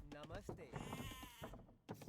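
Sheep bleating in the Age of Empires video game during a match. The repeated wavering bleats sound over the game's busy battle sounds, while a commentator talks over them.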